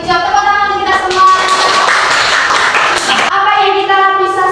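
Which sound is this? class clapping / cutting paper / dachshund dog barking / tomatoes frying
class clapping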